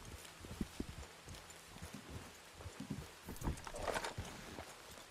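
A horse in the Red Dead Online video game clip-clops with quiet, irregular hoof steps, joined near the end by a brief snort or whinny, faint and alone.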